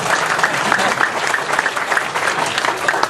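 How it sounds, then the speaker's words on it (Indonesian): Audience applause at a Mocopat Syafaat gathering in August 2011, a dense, steady round of many hands clapping for about three seconds with no voices above it. "Tepuk tangan."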